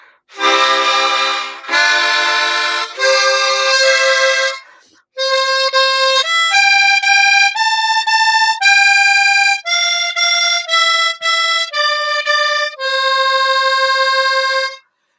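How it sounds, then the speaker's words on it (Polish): Bright reedy harmonica with a wavering tremolo, first a few sustained chords, then a simple melody of held notes, loud and close with no voices. "to jest harmonika tak zwana tremolo"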